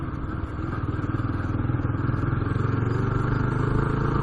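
A motorcycle fitted with new tires, including a big back tire, cruises along a road with a steady, close engine drone that swells slightly and holds an even pulsing rhythm.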